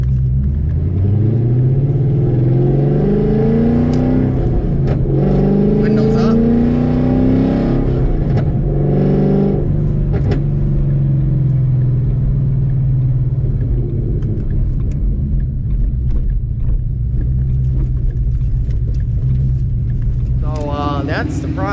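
A car fitted with full bolt-ons, long-tube headers, an X-pipe, 2-inch side pipes and MBRP mufflers revs hard, its deep rumbling exhaust climbing and falling in repeated pulls before settling to a heavy idle. Loud and close, with a person speaking briefly.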